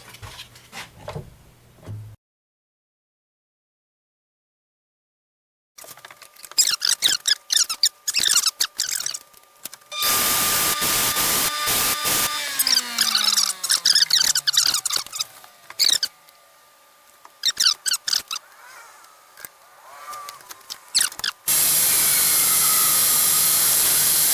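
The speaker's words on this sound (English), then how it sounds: "I'm going to go in there and sand this up." Sanding a segmented ipe wood hollow vessel: near-silence at first, then loud, continuous abrasive rushing with squeaky, whining tones that rise and fall through the second half.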